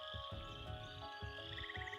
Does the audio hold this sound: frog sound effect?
yes